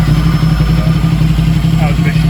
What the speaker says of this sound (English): And then we fire it up again and our idle should be a bit better now.